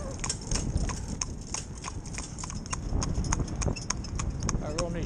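An Arab horse's hooves clip-clop in a steady, even rhythm as it pulls a carriage along a road during driving training, close and clear, with people talking over the hoofbeats.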